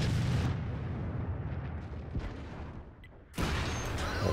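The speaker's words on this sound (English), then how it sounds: "our artillery gets a nice shot on him as well" Artillery fires in a tank battle video game featuring a VK 45.02 B on the Sand River map: booming blasts at the start and again near the end, with rumbling decay between them.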